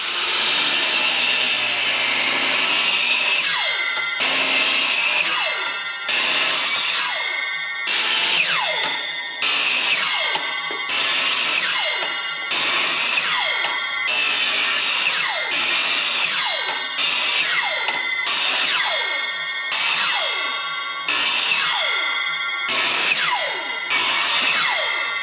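A power saw cuts 2x6 lumber for backyard hockey rink corners, loud and close, in a steady series of repeated cuts, each whining down briefly before the next begins.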